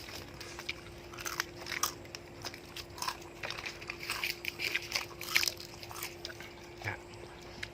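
Deep-fried, batter-coated pork intestine being bitten and chewed close up, a run of sharp, irregular crisp crunches that rise and fall over a quiet background, with no talking.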